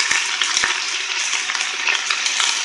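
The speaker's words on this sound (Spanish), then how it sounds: "He salteado todos los ingredientes junto a la cebolla ya pochada." Pumpkin, carrots and onion sautéing in a pan, a steady, close sizzle with a few light clicks of stirring.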